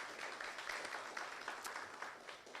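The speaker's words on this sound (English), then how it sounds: "Can you give them a round of applause even before they speak?" Audience applause at a finance conference, a steady, fairly quiet wash of many hands clapping with no voices over it.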